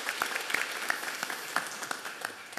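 A Korean church congregation at a Sunday morning worship service claps briefly, a sparse, fairly faint patter of individual hand claps with distinct accented strikes, heard from some distance in the sanctuary.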